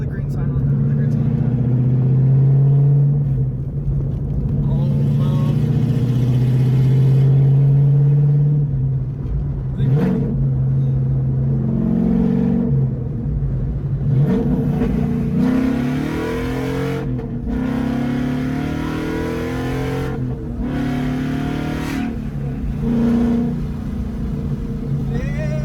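A straight-piped Ford Mustang exhaust rumbles loud and close, with repeated revs and acceleration pulls whose pitch rises and falls across the stretch, and a voice speaks now and then over the engine.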